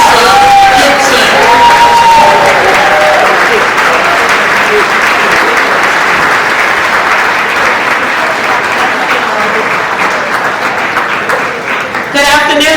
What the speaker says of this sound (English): give her a loud round of applause